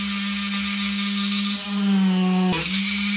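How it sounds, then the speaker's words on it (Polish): A small power drill bores holes in nut shells, giving a steady high whine that strains under load, then cuts out with a short rough scrape near the end. "Najpierw wiercimy w każdej łupinie otworek."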